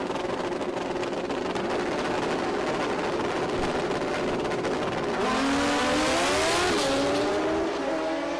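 Kawasaki-equipped drag racing motorcycles in a Super Comp final race loudly at full throttle, a continuous engine roar whose pitch rises and sweeps as they shift gears down the strip.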